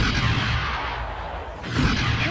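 Missiles explode in a Transformers Dinobots video game, a loud, dense rumbling blast and crackle that fills the short moment, swelling again near the end.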